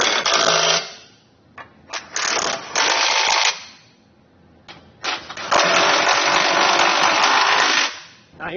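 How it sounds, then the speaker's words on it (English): A power tool drives a 22mm socket to snug down trailer hitch bolts, giving several loud bursts of rapid rattling. Each burst lasts a second or several, separated by short quiet gaps, and no one talks over them. "Once you have all the hardware in place and hand tight, you come back with a 22mm socket and snug them all down."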